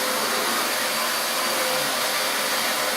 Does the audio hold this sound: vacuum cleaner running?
yes